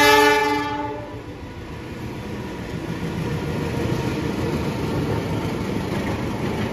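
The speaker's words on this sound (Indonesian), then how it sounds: "di sana ada lampu kereta yang akan melintas langsung" An Indonesian passenger train passes close by, sounding its horn loudly at first, then rolling past with a steady, heavy rumble of wheels and carriages that continues to the end.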